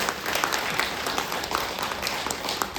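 Audience applause at a Maha Shivaratri spiritual session held by the Pyramid Spiritual Trust, a sustained wash of clapping from many people, moderately distant and even.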